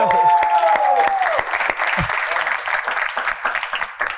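Loud audience applause and cheering right after a singing performance on a television talent show, steady clapping filling the whole stretch with scattered voices and a fading sung note at the start.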